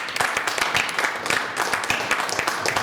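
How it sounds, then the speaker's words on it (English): An audience applauds candidate Barry Herr for the State Board of Education, District 3 at a political gathering: a dense, steady wash of many hands clapping at once, fairly close and sustained for the whole stretch without voices. "Give him a round of applause."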